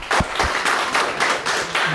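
A small group claps at a NEET results cake-cutting celebration, giving about two seconds of quick, close, fairly loud applause with a steady, dense rhythm.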